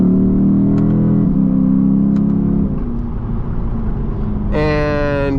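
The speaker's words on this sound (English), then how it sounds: "Throw it into manual mode. Rips the downshifts." A 2016 Lexus GS F sedan's V8 drones steadily from inside the cabin and then barks sharply as it rips through manual downshifts in traffic, with a rising rev flare near the end.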